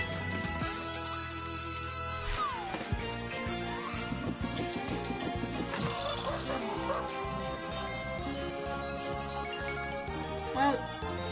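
Cartoonish dog barks and yips ring out from an online slot game amid jingling, tinkling game music and effects, moderately loud and repeated in short bursts.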